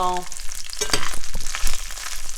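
Breadcrumbs frying in a hot cast iron pan, a loud close crackling sizzle with busy stirring scrapes and clatter throughout.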